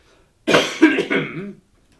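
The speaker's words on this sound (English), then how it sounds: "I'm going to clear my throat for a minute." A person clears their throat in two or three rough, forceful bursts lasting about a second, close and loud, with silence before and after.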